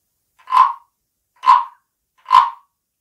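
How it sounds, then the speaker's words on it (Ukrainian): Wooden frog rasp scraped along its ridged back with a stick, producing three separate, evenly spaced croaking rasps, each short and clear, alone with silence between. "аби ця жабка-тріскачка для нас заквакала справжнім жаб'ячим голосом, паличкою, необхідно провести по зубчиках"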